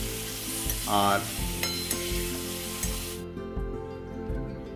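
Chicken pieces fry in a pan for a chicken aloo curry, hissing and sizzling steadily at close range, with a brief stirring scrape and a short spoken word over the frying.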